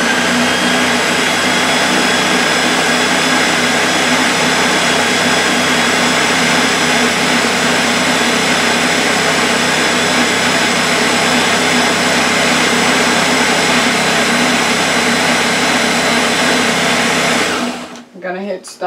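A countertop blender whirs continuously and loudly while mixing salmon salad with mayonnaise, a steady motor drone for about seventeen seconds before it cuts off abruptly near the end.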